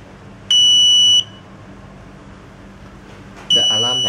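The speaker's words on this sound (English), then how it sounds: "If the humidity drop less than 30, the alarm will ring." Two shrill electronic alarm beeps from a temperature and humidity data logger sound over a quiet background, the first lasting under a second, the second starting three seconds later; a voice begins speaking.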